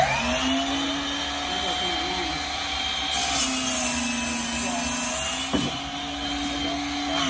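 Lever-operated saw with its blade spinning and cutting, a steady droning whine with a brief sharper burst near the end, while people talk faintly nearby.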